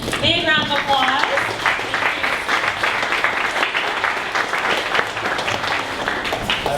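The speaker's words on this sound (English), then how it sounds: "Big round of applause." A room full of people at a business pitch event applauds to welcome a speaker, continuous dense clapping from start to finish, with a voice briefly heard at the beginning.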